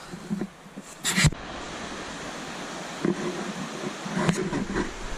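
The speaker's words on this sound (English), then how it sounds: "there's a waterfall right next to our site" A waterfall beside a campsite in the Catskills makes a steady broadband rush, with a few sharp knocks and rustles near the microphone and no speech.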